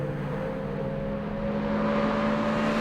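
A Ferrari California's engine hums in sport mode, a steady, moderately loud drone that rises only slightly in pitch.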